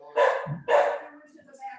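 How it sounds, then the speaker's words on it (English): A dog barks close to an open microphone during an online discussion, two loud barks in quick succession, followed by fainter background sounds. "I'm not sure where the barking dog is coming from"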